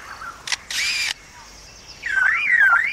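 Lyrebird mimicking camera shutters of different models, a few short mechanical clicks and bursts followed by a warbling whistled note, fairly close with no talk.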